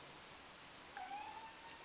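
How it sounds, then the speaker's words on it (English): A faint, thin cat meow rises briefly in the distance over a steady hiss of background noise. "you might hear my cat meowing"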